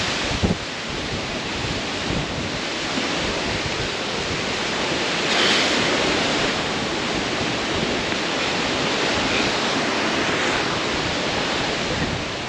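Water pours down hard beside a cave in Ladakh, a steady, loud, close rush of broadband noise that holds for the whole stretch with no voices.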